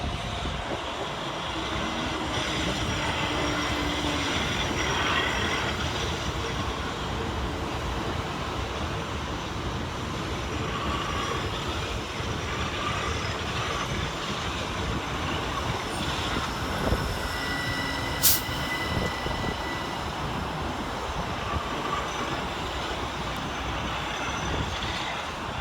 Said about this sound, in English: This train is formed of 8 coaches.